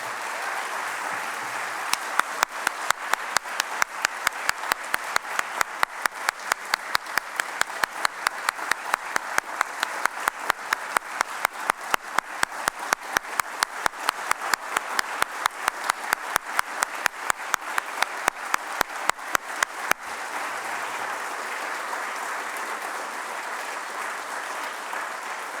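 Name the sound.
round of applause for the speakers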